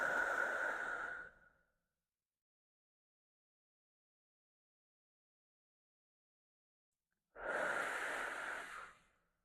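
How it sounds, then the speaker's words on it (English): Two slow, deep breaths during a full-body stretching class, each a long airy inhale-exhale with a slight wheezy edge, close to the mic and separated by several seconds of silence. "Give me 3 more breaths here."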